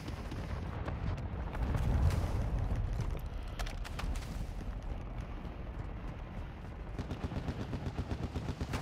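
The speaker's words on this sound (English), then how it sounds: "this heli's fucking shooting at me now" Helicopter gunfire in a military shooter game, a sustained barrage of rapid shots with heavy low-end rumble, loudest early on and continuing steadily throughout.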